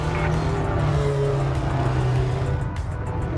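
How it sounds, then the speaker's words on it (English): A Fer-de-Lance ship engine in the space game Elite: Dangerous gives a loud, steady roaring drone with a low throbbing hum that holds for several seconds. "The engine on the FDL sounds so crazy"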